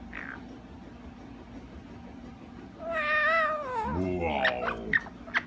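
Amazon Mexican parrots squabble, letting out wavering cat-like meowing squawks after a quiet stretch, followed by a few sharp short calls.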